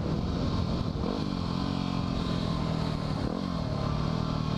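A dirt bike is ridden outdoors on a warm evening, its engine buzzing loudly and steadily up close, with small rises and dips in revs as it moves along.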